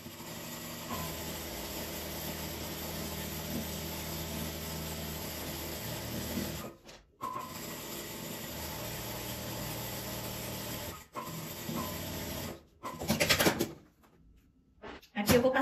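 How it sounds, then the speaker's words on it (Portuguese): A sewing machine stitches around pinned fabric lining on a piece made from scraps, running in a steady close whir for several seconds, briefly stopping, then resuming in shorter bursts. "E vou costurar aqui em volta, depois eu acabo de recortar"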